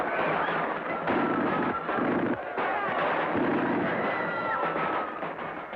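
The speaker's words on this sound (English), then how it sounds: "The shooting spread." Gunfire crackles through the streets of central Paris in archival film, a dense, continuous rattle of shots and rumbling blasts that stays loud throughout with no clear gaps.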